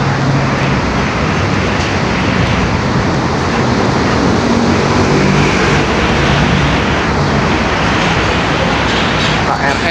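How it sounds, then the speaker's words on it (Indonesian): A KRL commuter train rumbles past beside a city toll road in Jakarta, a loud, steady wash of wheel and rail roar heard from inside a moving vehicle, with no break over the whole stretch. "KRL sebelah kiri, guys."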